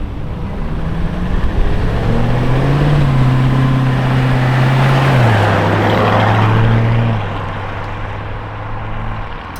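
A Lamborghini pace car engine drones loudly nearby, its pitch climbing and stepping down through shifts before easing off toward the end.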